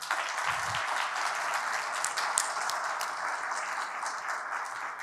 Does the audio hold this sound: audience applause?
yes